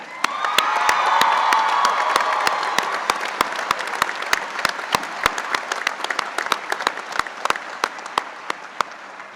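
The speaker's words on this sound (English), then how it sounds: "Please join me in applauding the mothers on Mother's Day." A commencement audience applauds the mothers at a spring undergraduate ceremony, steady crowd clapping that swells early then holds, with scattered sharp individual claps and faint cheering throughout.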